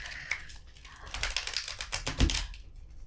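Large oversized playing cards are shuffled by hand, a quick flurry of crisp riffling clicks and flutters in bursts, close up and fairly quiet, without talk.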